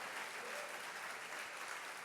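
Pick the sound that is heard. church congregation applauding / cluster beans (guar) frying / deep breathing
church congregation applauding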